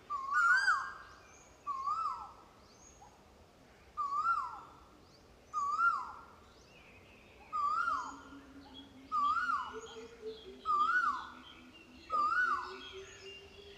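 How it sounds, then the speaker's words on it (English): Birds call repeatedly around the Prasat Ku Sombun temple ruins: about eight clear, evenly spaced hooting calls roughly every one and a half seconds, moderately close, with a lower drawn-out tone joining near the end. No speech. "Love the birds."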